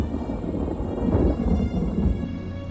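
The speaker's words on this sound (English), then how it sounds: "Thunderstorms are highly likely throughout the night." Thunder from a nighttime thunderstorm rolls as a deep, rumbling wash of low sound with rain hiss over it, steady and fairly loud, then fades slightly near the end.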